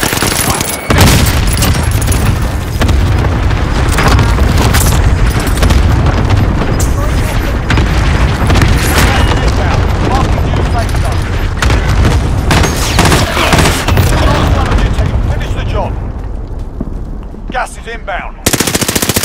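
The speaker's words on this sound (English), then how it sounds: "Down an airstrike." Airstrike explosions in Call of Duty: Warzone Resurgence roar loudly and continuously, with heavy booms layered over rapid machine-gun fire for most of the stretch before easing briefly near the end, while voices are faintly mixed in.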